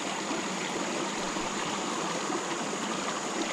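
Running creek water rushes and babbles steadily nearby, a continuous even hiss with no voices.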